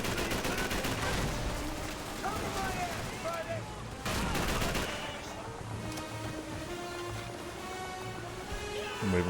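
Gunfire in Call of Duty 3, the 2006 World War II shooter, with dense repeated bursts that sound like machine-gun fire, heaviest near the start and again around the middle, mixed with a steady low battle rumble.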